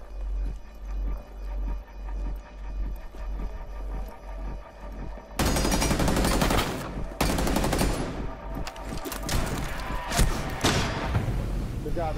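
Shotgun fire in Rainbow Six Siege: after a quieter stretch of rhythmic footsteps, loud blasts and crashing impacts erupt, several sharp shots close by, with players talking over it.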